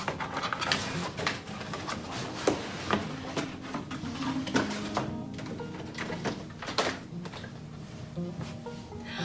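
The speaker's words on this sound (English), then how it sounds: "Now, let's open the box." Cardboard product box for a Roomba i7+ robot vacuum being opened at close range, with a string of scraping, rustling and tapping clicks and thumps that keep coming in irregular bursts, no speech.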